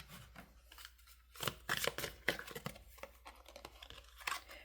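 Tarot cards being drawn and handled from a deck: quiet, uneven papery shuffles, slides and flicks in short bursts, close by, with no talking.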